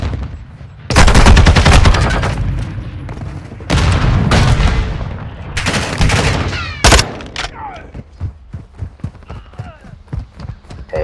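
Loud bursts of rapid gunfire in the video game Call of Duty: Modern Warfare II, several sustained volleys up close, then sparser single shots and clatter as the firing tails off, with players chatting over it.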